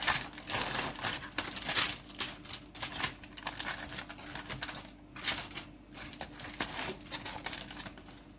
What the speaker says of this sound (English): I wanted to unwrap it in front of you so you can see